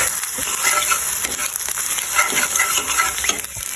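Maggi noodles frying with an egg mixture in a pan, a loud, close, steady sizzle with quick repeated stirring scrapes throughout and no voices.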